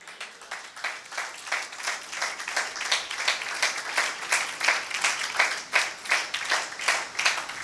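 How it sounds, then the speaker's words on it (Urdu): A church congregation at a Sunday Mother's Day service claps in a steady, rhythmic beat, about three claps a second, close and continuous with no talking over it. "یہ تالیاں خداوند کے جلال کے لیے تو ہو سکتی ہیں"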